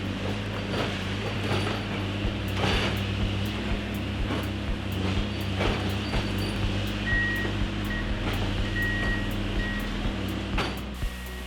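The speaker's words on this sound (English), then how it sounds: "A set of 2 rail-mounted pieces of equipment picked up the ties and moved them into place." Rail-mounted track machinery picks up railway ties and moves them into place during a tie replacement on a CSX line, with a steady mechanical engine drone, repeated clanks and ratcheting knocks, and brief beeps near the end.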